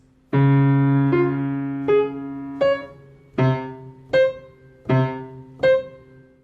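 Piano playing measures 5 and 6 of Maple Leaf Rag, the ragtime piece, in a lesson for kids: a sustained low chord, then about seven clear, separate notes in an even, bright rhythm, close and alone.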